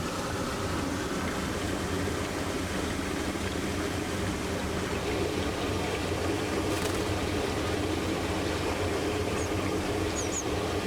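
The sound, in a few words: waterfall and mountain stream water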